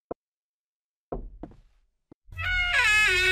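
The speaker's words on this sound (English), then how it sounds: "Wait, what is that knocking sound?" Knocking in the Mirror Horror video game: a lone sharp rap, then a cluster of hollow knocks and one more tap with silences between, before a loud eerie sustained tone swells in and takes over.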